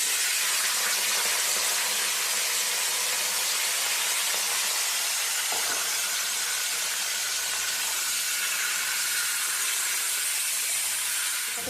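Washed chicken fries in hot oil in a wok, giving a loud, steady hiss and sizzle that holds evenly throughout with no voices.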